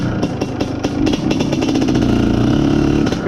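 IZh Planeta Sport motorcycle engine, fitted with a 1.5 carburettor and running lean, revving loudly and close up, with sharp repeated throttle blips early on before settling into a steady, rough-edged high drone.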